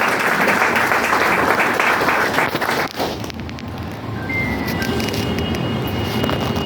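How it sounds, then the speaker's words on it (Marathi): Sustained applause from an audience at a Marathi public gathering, a dense loud wash of clapping that thins briefly partway through and then carries on steadily to the end. "आपण सर्वांनी टाळ्या वाजवा"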